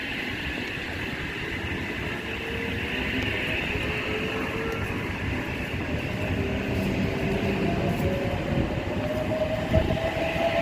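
A Kiama-bound passenger train pulls away from platform 1 at a windy Wollongong station, a continuous rolling rumble and rising motor whine building steadily, wheels clattering faintly, heard nearby without talk.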